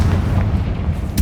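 Confringo blasting spell from Hogwarts Legacy, a loud booming magical explosion that fills the clip with dense low rumble and ends in a sharp crackling burst.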